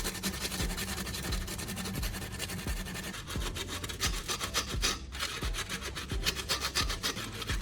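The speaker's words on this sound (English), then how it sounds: "I'll make sure to use sandpaper to smooth out any sharp metal edges so we don't cut ourselves later." Sandpaper rubs briskly over the sharp cut metal edges of a tin, producing a steady, close, rasping scrape in rapid back-and-forth strokes. The grinding texture stays constant throughout with no voices.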